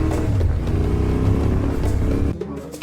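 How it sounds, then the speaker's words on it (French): Rally vehicle accelerating hard at full throttle through desert sand, a loud, close, steady engine roar with droning harmonics that holds for several seconds before dropping off abruptly near the end. "gaz en grand dans le sable"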